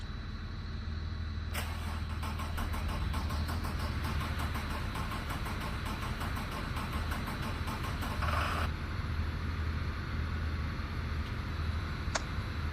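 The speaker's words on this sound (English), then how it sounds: "That bus just don't sound right." A school bus engine running rough, with a steady low mechanical drone and a throbbing, uneven pulse through the middle section, heard fairly close with no talk.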